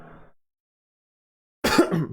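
A single person's cough during a Quran recitation lesson, one sharp, close burst after a brief silence, following a faint trailing bit of voice.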